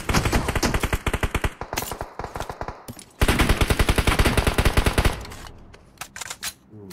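Rapid automatic gunfire in an online shooter game, long rattling bursts of closely spaced shots with a brief pause midway, then a second sustained burst tapering into scattered shots.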